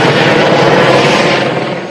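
Helicopters arriving at a makeshift base set up to recover bodies after the Brumadinho dam disaster, a loud, steady rotor and engine roar that holds close and constant, then eases slightly toward the end.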